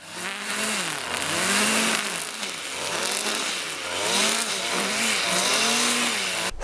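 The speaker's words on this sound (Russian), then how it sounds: "Скосил траву между рядами" Petrol motor trimmer cutting grass between potato rows in a village garden, engine loud and close, revving up and down in repeated waves as it swings through the growth.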